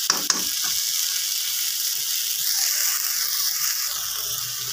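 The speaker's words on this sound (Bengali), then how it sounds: "এখানে যে আমি পেঁয়াজ আর শুটকি একসাথে ভেজে নিয়েছি" Dried fish and onions fry together in a pan, giving a steady, bright, close sizzle that holds evenly from start to finish, with a couple of faint knocks at the beginning.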